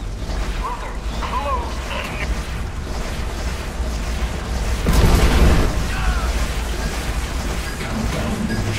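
A GDI Tiberium Refinery being destroyed in the Renegade X video game, with a loud booming blast swelling midway over a constant dense bed of battle noise and rumble.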